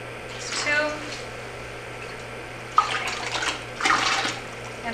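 Distilled purified water is poured into a container for a plaster hand-mold mix, coming in a few short splashing bursts against a quiet background hum.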